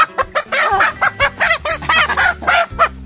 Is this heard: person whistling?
no